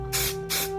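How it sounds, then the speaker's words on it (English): Two short bursts of mold release aerosol hiss from a spray can, each a sharp close hiss with a brief pause between, over a low steady hum. "Once I spray this, it's going to leave a nice, slick, shiny finish on it."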